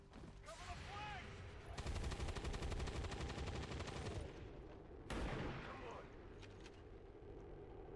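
Bursts of gunfire from the XCOM 2 strategy game on insane difficulty during a VIP extraction mission, with dense rattling volleys and sharp blasts over a steady game soundscape and music, loud and close.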